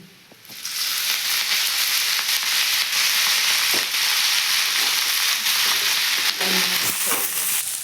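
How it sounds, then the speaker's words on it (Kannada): Shredded cabbage fries in oil in a pan for palya, giving a loud, steady sizzle that runs for several seconds with a few faint stirring clatters and no talk. "ಈಗ ನಮ್ಮ ಮಮ್ಮಿ ಪಲ್ಯ ಮಾಡಕ್ಕೆ ಕೋಸುಗಡ್ಡಿನ ಹುರ್ಕೊಳಕತ್ತಾರ"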